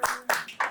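Three sharp hand claps ring out in quick succession, each one crisp and close, with short gaps between them in a quiet indoor podcast setting.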